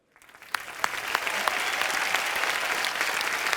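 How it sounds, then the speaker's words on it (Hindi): A studio audience at a comedy show bursts into applause for a ribbon-cutting inauguration, the clapping swelling from a few sharp claps into full, sustained applause. "उद्घाटन का, ताली बजाओ"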